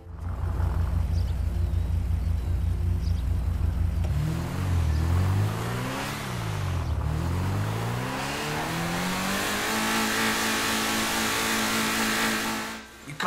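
A sports car engine in the video game GTA 5 revs hard and climbs through rising and falling pitch sweeps as it accelerates, loud and continuous.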